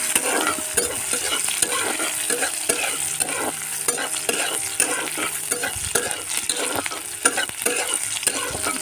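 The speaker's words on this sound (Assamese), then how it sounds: "ইয়াত পিঁয়াজ দি দিছোঁ অকণমান, পিঁয়াজখিনি ভাজি লওঁ।" Onions sizzle in a pan in an outdoor kitchen, with a steady frying hiss and repeated scraping strokes of a spatula as they are stirred, loud and close.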